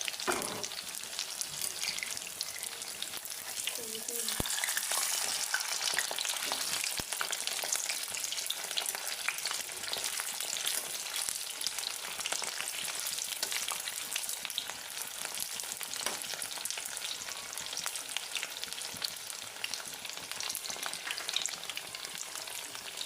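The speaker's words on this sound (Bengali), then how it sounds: "এখন আমি ভালো করে ভেজে নেব লাল করে" Fish roe pakoras deep-fry in hot oil with a continuous dense crackling sizzle, close and steady throughout, with faint stirring now and then and no voices.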